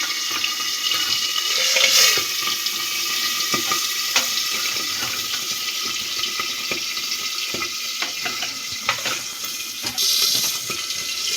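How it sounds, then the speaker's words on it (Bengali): Small tangra fish frying in well-heated oil for a Bengali fish curry, giving a steady, close hiss with sharp crackles and pops scattered throughout, a few louder bursts standing out, and no talking. "মাছগুলো দিয়ে দিচ্ছি, তেলটা ভালো মতো গরম হয়ে গেছে।"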